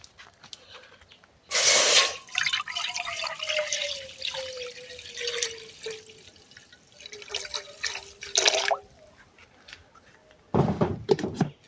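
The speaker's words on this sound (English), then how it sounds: "Then we get some water in our pot now" Water splashes into a cooking pot at an outdoor cooking spot in Jamaica, in short bursts with trickling in between, fairly close and moderately loud.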